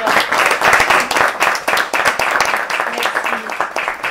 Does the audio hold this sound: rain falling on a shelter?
no